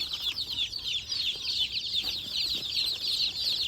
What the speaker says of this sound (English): They're all hens, all layers.